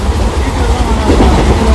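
West Coast Superfast Express running at speed on rails near Arakkonam, a brief, loud, continuous rumble of wheels and carriage noise with faint clatter.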